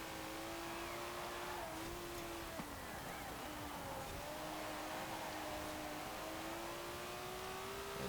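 Race car engine in Forza Horizon 4, a steady droning engine note that holds and shifts slightly in pitch, heard from a moderate distance at low level, with no voices.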